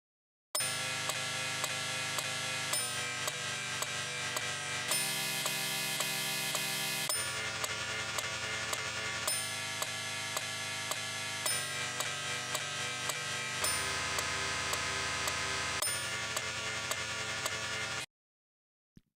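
A loop station sequencer plays a transposed chord progression as thick sustained synth-like chord blocks, changing every couple of seconds for about eighteen seconds before stopping abruptly, with no talking.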